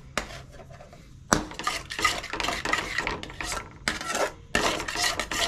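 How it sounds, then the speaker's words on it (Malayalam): Noodle masala mixture being stirred in a pan with a utensil, giving repeated scraping and clanking strokes against the metal, close and fairly loud, with no talking. "ടീസ്പൂണ് നൂഡിൽസ് മസാല ചേർത്തിട്ട് ഇളക്കി വേവിപ്പിക്കുക."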